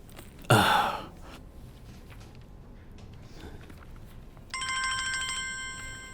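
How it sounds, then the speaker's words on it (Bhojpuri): A telephone rings in a Bhojpuri movie scene, its electronic ringtone starting midway and repeating steadily after a sharp gasp-like burst of sound near the start, with no talk. "फोन बज रहा बा, सुनाई नहीं खे देत।"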